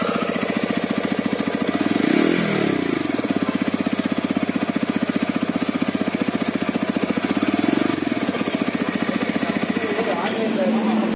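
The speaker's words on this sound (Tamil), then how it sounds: "எக்ஸாஸ்ட் நோட்ஸை வந்து கேளுங்க." A TVS Raider 125 BS6 motorcycle, a 125cc bike, idles with a steady rapid thumping exhaust beat, interrupted by two short throttle blips that rise and fall before settling back to idle.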